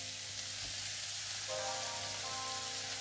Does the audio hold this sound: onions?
yes